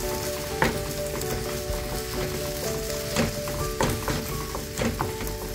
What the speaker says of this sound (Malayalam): നല്ലോണം മിക്സ് ചെയ്ത് കൊടുക്കാം.